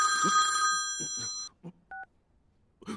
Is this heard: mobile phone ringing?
yes